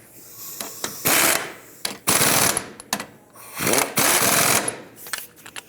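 Power tool snugging up 19mm ball joint nuts on a 2001-2003 Lexus ES300 front suspension, heard as several loud, close bursts of rattling impact with short pauses between them.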